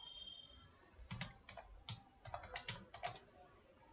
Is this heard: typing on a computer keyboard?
yes